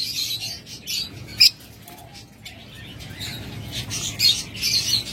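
Pet birds kept for sale chirp in a busy, overlapping chorus of short high tweets, with one sharp louder call standing out early on.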